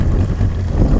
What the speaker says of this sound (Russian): Вот они, первые метры на отремонтированной лодке с новым мотором.